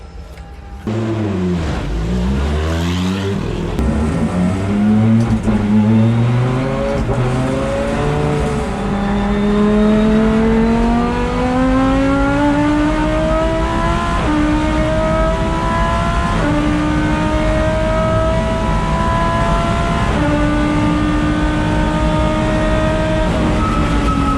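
A Lamborghini Gallardo GT3 race car's V10 engine on a practice lap, loud and close from onboard, revving hard through repeated upshifts and sustained high-rpm runs, with a steady roar throughout and no talking.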